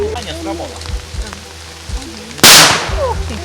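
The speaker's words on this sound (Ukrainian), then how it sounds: "Отакий от вибух" A single sharp, loud pop of a small explosion, shown to children as a mine-safety demonstration, bursts out after a stretch of quiet voices and shuffling, followed by a brief fizzing tail.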